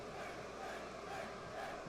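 A WWE 2K wrestling game crowd cheers in a steady, moderately loud roar with no clear peaks, rising slightly toward the end.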